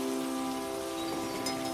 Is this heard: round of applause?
no